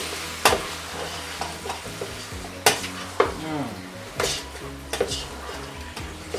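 A spoon stirs sinigang ingredients in a pot, producing repeated sharp metallic scrapes and clanks against the pot over a soft simmering sizzle, close and uneven in rhythm.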